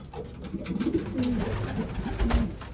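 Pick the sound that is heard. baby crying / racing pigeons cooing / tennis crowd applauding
racing pigeons cooing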